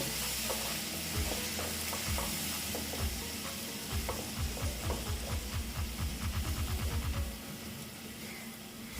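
Egg and potato dhoka curry being sautéed in a pan, with a steady sizzle and a run of rhythmic spoon or spatula scrapes that quicken toward the end, close and moderately loud.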